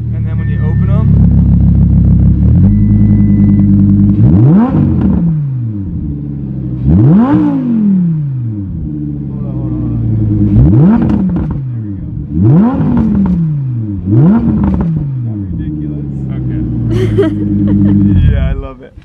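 A carbon Ducati Panigale V4 SP revs with its exhaust valves open. Six or so sharp, loud blips rise and fall over a deep idle, with voices likely talking in between.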